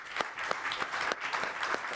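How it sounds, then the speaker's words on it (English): A crowd applauds the speakers at a conference, a close, continuous patter of many hands clapping at moderate volume with no talking. "give one more big round of applause to the speakers"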